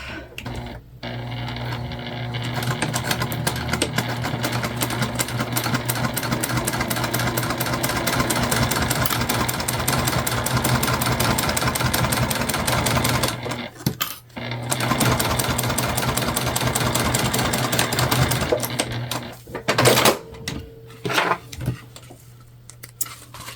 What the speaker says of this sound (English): Now we're gonna sew this on with a full seam allowance for this step.